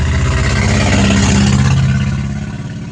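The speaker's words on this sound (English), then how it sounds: "that car was really loud." A loud car engine rushing past close by, swelling to a peak in the middle and then fading as it moves away, with no talking.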